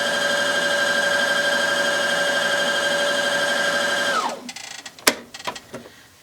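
A sewing machine winds a bobbin with a steady, close motor whir for about four seconds, then winds down and stops, followed by a few sharp mechanical clicks.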